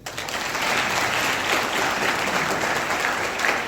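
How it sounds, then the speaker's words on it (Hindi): A seated audience at a business seminar breaks into dense, steady applause, close and loud, holding evenly for a few seconds without talk. "इनके लिए ताली बजाइए"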